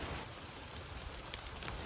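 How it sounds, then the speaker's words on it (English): Light rain shower beginning on open farmland on a squally day, a faint steady patter with soft wind and scattered drop taps, no talk. "it's already started raining"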